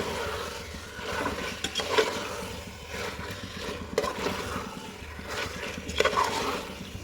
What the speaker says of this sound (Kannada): ಚಿಕನ್ ಹಾಕ್ಬಿಟ್ಟು ನೀಟಾಗೆ ಒಗ್ಗರಣೆಯಲ್ಲಿ ಮಿಕ್ಸ್ ಮಾಡಬೇಕು